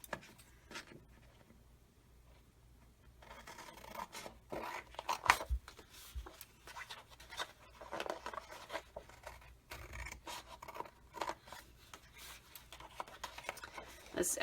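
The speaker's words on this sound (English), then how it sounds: "grab my scissors" Scissors snip and rasp through paper in a quiet room, soft intermittent cuts and rustles, close but faint.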